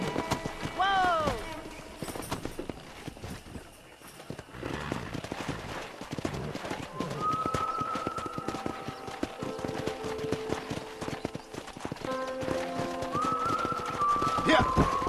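Horses gallop in the video game Red Dead Redemption while wild horses are wrangled on a ranch. Steady clip-clopping hooves run throughout under game voices, with a whistle and occasional whinnies.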